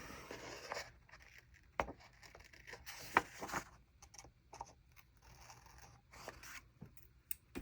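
Quiet rustling and scraping of scissors being handled, with faint clicks and shuffling sounds scattered across a soft background.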